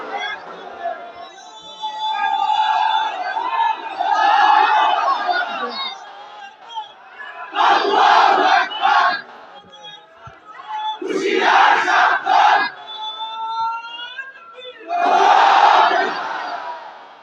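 A large crowd shouts the religious chant Nara-e-Takbir, Allahu Akbar in loud repeated call-and-response bursts, with clear pauses between each roaring group reply.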